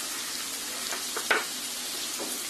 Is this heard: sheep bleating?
no